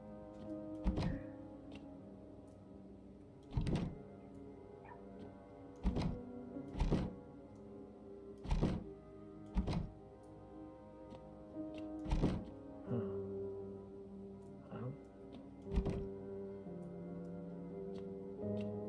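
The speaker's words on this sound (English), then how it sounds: "They're banging on doors like crazy" Loud bangs on doors in the horror game No I'm Not A Human, heard from inside rooms. Irregular heavy thuds repeat every couple of seconds over a steady low hum, with no talking.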